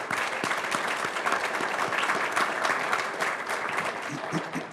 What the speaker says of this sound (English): If you give him a round of applause, please